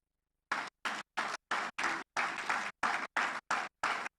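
Audience applause at a program closeout meeting, arriving as a string of ten short separate bursts of clapping with gaps of silence between them, fairly faint and uneven.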